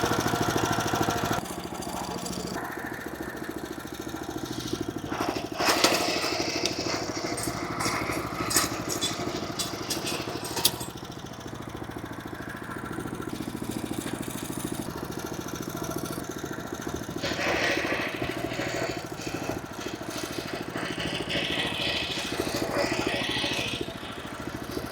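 A 10GDPE power weeder engine runs continuously and the machine moves, giving a steady mid-pitched drone with some rattling throughout, and a voice talks over it.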